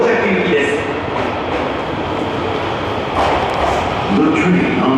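An Osaka Metro Sakaisuji Line train rolls into platform 2 at Ebisucho station, a loud, steady subway rumble with rail clatter and thumps, while a platform announcement voice plays over it.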